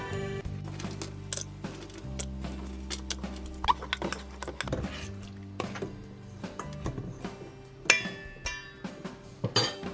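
Butter melting with chocolate in a pot is stirred with a spoon, giving irregular soft clinks, scrapes and wet patters against the pot, close and moderately quiet, with faint music in the background.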